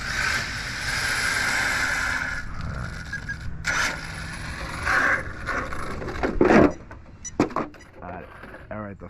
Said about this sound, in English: the fan came on